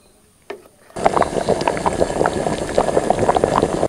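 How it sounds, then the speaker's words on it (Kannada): A pot of sambar at a rolling boil, steady close bubbling and popping after a brief clatter and a moment of quiet at the start. "ಇದೊಂದು 1 ಕುದಿ ಆದರೂ ಬರಲಿ"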